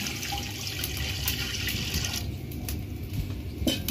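Water poured from a tap into a cooking pot on the fire while preparing katta kadai meat curry, a steady continuous splashing rush with small clinks, no talking.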